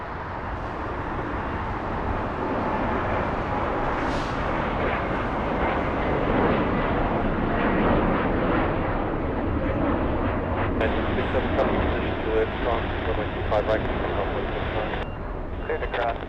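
Airliner taking off at LAX, a broad sustained jet roar that swells and holds steady at moderate loudness, with faint voices and radio chatter underneath.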